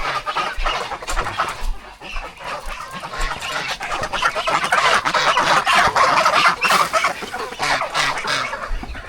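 A flock of chickens clucking and squawking close by, busy overlapping calls that grow louder and more agitated toward the middle, with a few goose-like honks mixed in.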